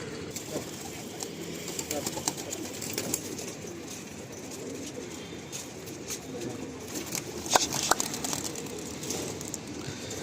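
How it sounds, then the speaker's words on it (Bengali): Malwai pigeons at a loft give soft, scattered coos and flutters against a quiet background, with a few sharper sounds that could be wingbeats or handling, and someone talking over them. "আসুন দাদার ঘর থেকে এই পায়রাগুলো একটু উড়িয়ে আপনাদের উড়ান শখ করায়।"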